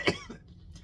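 A single short cough from someone who is getting over a cough, fairly faint and close, followed by a quiet breath and silence.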